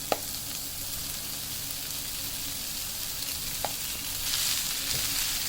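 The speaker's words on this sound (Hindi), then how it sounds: "मसाले यहाँ पे सारे भुन चुके हैं। अब इसमें मैं ये आलू शामिल कर दूंगी।" Potatoes stirred into spices frying in hot oil for aloo samosa filling, a steady close sizzle with a few soft scrapes of the spoon, no talk.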